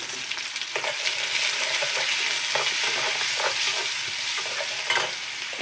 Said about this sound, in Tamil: இப்போ நல்லா வதக்கி விட்டுறலாம்